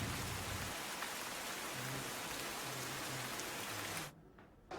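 Heavy rain pours down in Surat, Gujarat, in a dense, steady hiss, cutting off abruptly near the end.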